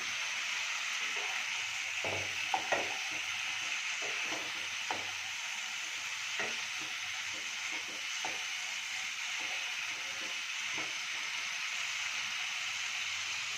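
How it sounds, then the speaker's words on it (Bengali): Fried potatoes are added to a pan for a moong dal omelette curry and stirred in a low, constant sizzle, with scattered clicks and scrapes from the stirring. "এবারে দিয়ে দেবো আমি ভাজা আলুগুলো।"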